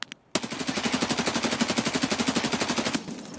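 Sustained automatic weapon fire in the video game Escape from Tarkov, a rapid evenly spaced burst of about thirty shots lasting nearly three seconds after a short pause, loud and close, with no talking.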